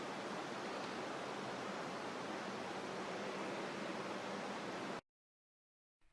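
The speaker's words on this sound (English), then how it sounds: "There is this sound of trickling water that seems to come through." Water trickles and rushes as a steady broadband hiss, continuous and fairly faint, before cutting abruptly to near silence at the end.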